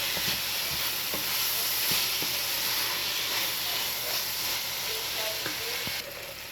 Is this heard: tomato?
yes